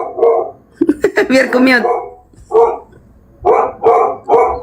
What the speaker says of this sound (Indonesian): Kena apa nanti suara guguk ini?